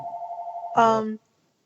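A telephone rings indoors with a steady warbling tone, then a brief louder buzzy burst before cutting off to silence.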